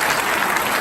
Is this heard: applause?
yes